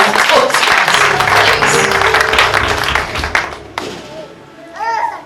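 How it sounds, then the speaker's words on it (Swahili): A church congregation breaks into loud applause during a Sunday service, with sustained clapping for several seconds that fades into quieter room noise and a few voices. "Piga makofi."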